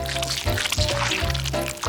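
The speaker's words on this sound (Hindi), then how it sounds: "जार खोलेंगे और शहद डालेंगे" Honey poured from a jar onto strawberries in a glass makes close, wet, sticky drips and squishy liquid sounds in short bursts, over a low steady tonal hum.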